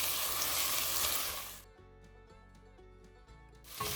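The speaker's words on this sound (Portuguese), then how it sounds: "A primeira coisa que eu vou fazer é refogar a cebola e o alho" Chopped onion and garlic sautéing in a pan, a loud dense sizzle for about a second and a half, then dropping to a quieter crackle with soft clinks before the sizzle surges again at the end.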